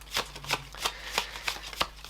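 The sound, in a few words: shuffling Mercante della Fiera oracle cards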